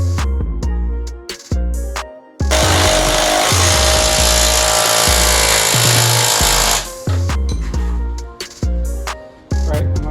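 Loud bursts of an impact tool tightening bolts on a Chevrolet Silverado 2500HD Duramax during a McGaughys drop hanger install: several short rattling hits, one long sustained run in the middle, then more short bursts.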